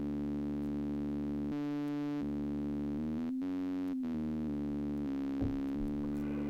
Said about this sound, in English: VCO2 is lower than that of VCO1, but not by exactly 1, 2, or 3 octaves, the output tone gets deeper and the sound is more gnarled